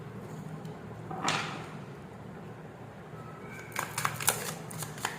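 Tarot cards are shuffled and drawn in a quiet room, with a soft riffle early on and then a cluster of light, crisp card snaps and slides near the end. No one talks.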